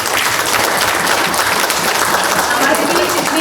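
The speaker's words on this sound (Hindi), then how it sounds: "तालियां रुकनी नहीं चाहिए।" Sustained, dense audience applause at an international Hindi conference, loud and even throughout with no gaps, many hands clapping together in a large hall.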